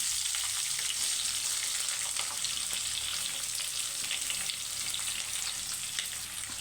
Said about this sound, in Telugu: కట్ చేసి పెట్టుకున్న ఉల్లిపాయ ముక్కలను అయితే వేసుకోవాలి.